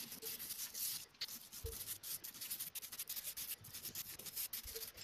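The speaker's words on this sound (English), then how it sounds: "just give them a little scrub again, same as before" Hands scrubbing oily, rusty metal parts after a citric acid soak, making a soft, steady rubbing and scraping with short bursts of friction, close up with no talking.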